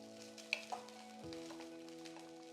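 Cooked varagu millet rice being stirred into oil in a pan, with a couple of sharp spatula scrapes early on over a faint, quiet sizzle.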